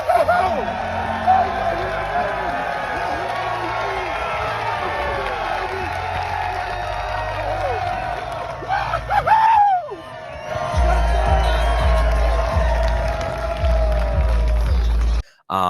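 Fans at a New York Jets training camp cheer and whoop loudly, a sustained crowd roar with yells and excited voices, briefly dropping out near the end, with talk underneath.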